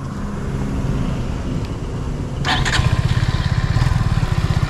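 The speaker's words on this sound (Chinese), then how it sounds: "然后再来就是这个哦，超怀念的，我发动给大家看" A motorcycle engine is started and settles into a close, loud idle: the crank catches and the engine fires into a rapid, steady putter.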